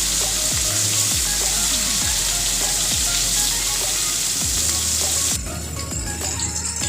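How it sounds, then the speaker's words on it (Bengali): Chapila fish shallow-frying in hot oil crackles in a loud, steady sizzle, with soft scraping clicks from a utensil recurring every second or so; no one speaks. "এবার আমি একটা একটা করে মাছগুলোকে একটু ভাজা করবো"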